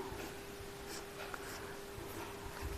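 A pen scratches on paper while a math formula for the area of a rectangle is written out, with faint, intermittent scratching strokes heard close up against steady background hiss and a low hum.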